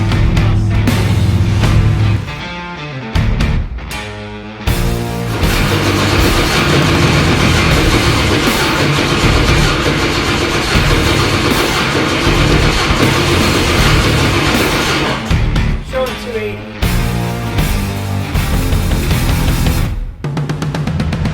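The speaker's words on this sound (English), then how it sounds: "As you can see in here, we got a hit, we got it running." A 632-cubic-inch big-block engine on a dyno cranks briefly, then fires and runs loud and steady, with short gaps and choppy bursts near the start and end.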